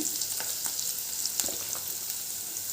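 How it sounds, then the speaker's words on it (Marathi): Green chillies frying in hot oil as turmeric goes in, a steady hiss of sizzling with a few light clicks from a spoon, close and fairly soft, no speech. "मिरच्या फ्राय झाल्या की त्यात हळद घालायची"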